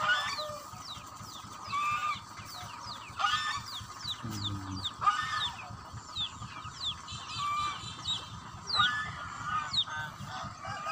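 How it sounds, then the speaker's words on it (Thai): Geese honk repeatedly among clucking chickens and ducks in a village yard, a busy mix of loud close calls and rhythmic fowl chatter layered over a steady background. "มีไก่มีเป็ดมีห่านครับมีห่านด้วยครับ"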